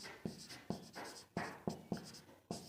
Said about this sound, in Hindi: सबसे पहले यहाँ पे लिखेंगे हम